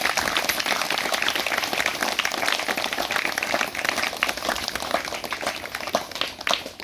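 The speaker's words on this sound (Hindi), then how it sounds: "ताली बजाएं यीशु मसीह के लिए।" A church congregation claps during a sermon, a dense, continuous wash of many hands clapping, steady and fairly loud throughout.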